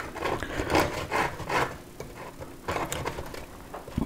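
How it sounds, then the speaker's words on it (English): Serrated bread knife sawing away excess pastry from custard tarts in a tin: close, raspy back-and-forth scraping strokes in bursts, with brief pauses between cuts. "we just need to carefully get rid of the excess pastry"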